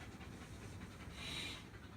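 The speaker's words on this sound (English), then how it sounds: "I'm swarmed with dogs." Dogs pant steadily and close by through the whole stretch, a rough breathy rhythm with a brief hissy swell near the middle and no talking.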